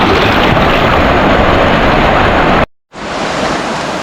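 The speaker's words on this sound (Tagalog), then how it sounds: "Grabe, nag-alboruto na yung ilog dito sa amin" Swollen river rushing in the countryside during a typhoon, a loud, steady broadband roar of fast floodwater that cuts out abruptly for a moment near the end, then resumes slightly quieter.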